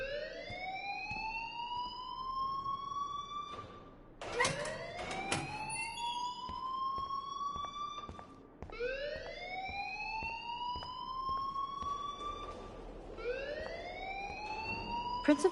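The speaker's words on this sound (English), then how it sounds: "please turn off that alarm since that's your job" A school alarm in the Life is Strange video game wails in rising siren sweeps, repeating about every four seconds with sharp clanging accents between cycles, steady and fairly loud with no talk over it.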